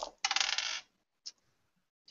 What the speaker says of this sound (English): I get to roll more dice.